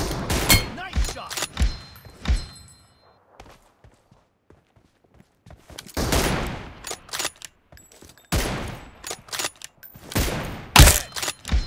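Gunfire in PUBG Mobile, bursts of shots and thuds in clusters with a quieter gap in the middle, loud and close.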